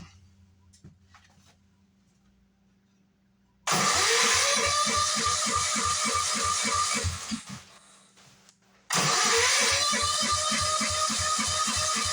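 A scrapyard welder's engine cranks and catches twice: a loud, rhythmic pulsing run of several seconds that dies away, then a second start that keeps chugging steadily, with a quiet low hum before it.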